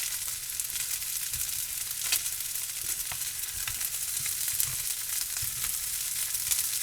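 Pork fried rice sizzles steadily in a pan as powdered egg is stirred in, a constant bright crackle with occasional scraping stirs, fairly soft and with no voices.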